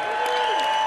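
Concert crowd applauding after a blues and rock set, a brief steady wash of clapping at moderate level with a faint tonal hum running under it.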